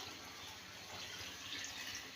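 Water poured into a mix of gram flour and buttermilk for Punjabi kadhi pakora batter, a soft steady running and splashing sound from a tap or pour, continuous and close, with no talking.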